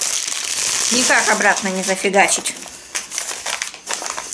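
A torn, leaky plastic bag rustles and crinkles in sharp bursts as it is handled close by, while someone speaks over it.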